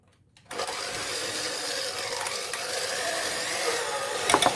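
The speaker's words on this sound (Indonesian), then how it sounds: "Lalu kita mixer dengan pengocokan yang bentuknya spiral seperti ini." An electric mixer with a spiral hook kneading bread dough at high speed, kicking on suddenly from silence into a steady whirring mechanical drone, close and continuous, with a few clattering ticks near the end.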